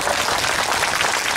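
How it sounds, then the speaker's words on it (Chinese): A crowd applauds at a civic debate held in a public square in Hong Kong, with a dense, steady wash of clapping that stays at even loudness through the short stretch. "我阿丹鼓掌俾 林哥"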